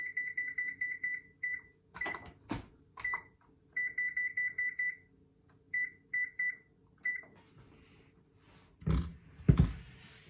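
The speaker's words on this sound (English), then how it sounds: "our timer's going off" A kitchen timer alarm goes off while Christmas cookies bake, sounding as loud, clear electronic beeps in quick repeated bursts with short pauses between groups, followed by a few clattering knocks near the end.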